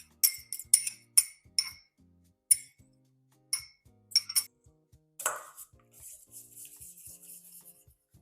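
Full-fat ricotta cheese being mixed in a bowl for savoury muffins, a quick run of bright spoon clinks against the bowl followed by softer scraping and rubbing, close and fairly quiet with pauses between strokes.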